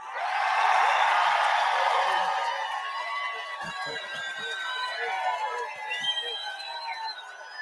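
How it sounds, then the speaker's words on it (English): A large crowd cheers for Bobby Kennedy as he declares an independent candidacy, a broad roar of cheering and whistles that swells early then fades under continuing crowd noise and a speaking voice. "Cheers from a pretty big audience there for him."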